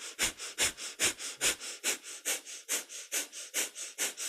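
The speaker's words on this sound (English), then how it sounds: "This time we do a breath of fire." Breath of fire during a kundalini yoga session: about eleven quick, forceful nasal exhalations in a steady rapid rhythm, close and clear with no talking.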